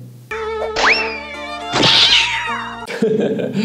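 A cartoonish cat in a cartoon lets out loud, drawn-out meows and a yowl, mixed with bouncy boing and thunk effects, close and prominent.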